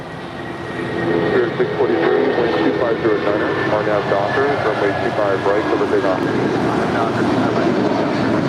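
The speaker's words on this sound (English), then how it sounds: "That was United Airlines Flight 2259 headed to Newark, and that 757-200." United Airlines Boeing 757-200 jet at LAX, a loud sustained engine roar swelling after the first second and staying strong, with someone talking over it throughout.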